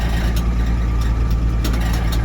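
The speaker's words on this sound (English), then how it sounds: "So I'm going to turn the heater on, turn the blower on" A vehicle heater blower fan running steadily, a loud, continuous low hum and whoosh close by with a rumbling engine idle underneath and a few faint clicks.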